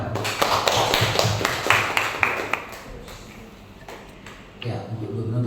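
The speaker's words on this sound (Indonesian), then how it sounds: "kita tepuk tangan untuk kita" Clapping from the audience at a school positive-culture dissemination event comes as a short spell of close, sharp claps that thins out, then returns briefly at the end.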